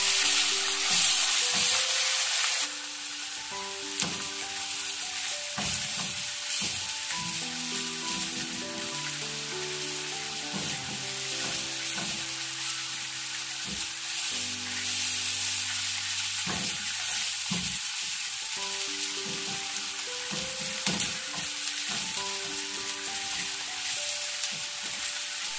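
Garlic and ginger paste sautés in oil for a fish pickle, giving a dense, continuous sizzle with repeated stirring scrapes throughout and no speech.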